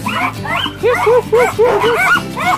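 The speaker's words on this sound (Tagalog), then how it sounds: "Ayan, mga aso ko. Aso. Ito, mga dogs." Several dogs bark and yip in quick, overlapping bursts close by, with some whiny high-pitched yelps mixed in.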